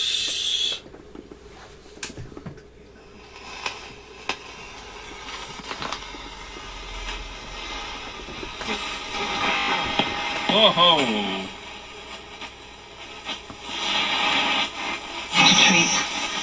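Dynatron Atlantis TP35 transistor radio switched on and tuned to medium wave after repair, giving a hissy broadcast with whistles and fluctuating static, a voice exclaiming briefly over it and broadcast speech coming through.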